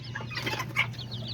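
Backyard hens and a small white rooster cluck in short, close bursts, a few sharp calls over a steady low hum.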